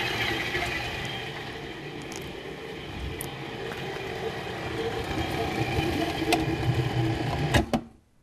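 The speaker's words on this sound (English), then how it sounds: "now I'm gonna use the food processor to blend this up to a creamy consistency" A food processor whirs steadily as it blends raw taco and burrito filling into a creamy mock refried bean mix, a constant motor drone that cuts off abruptly at the end.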